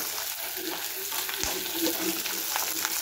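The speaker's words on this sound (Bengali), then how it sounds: "এখানে পেঁয়াজ ভাজছি হালকা করে" Steady crackling sizzle of onions frying lightly in a pan, with occasional stirring scrapes, continuous and close.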